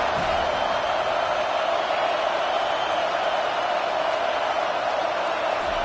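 Stadium crowd at a football game roars a loud welcome, a dense and steady wall of cheering noise from start to end with no pauses.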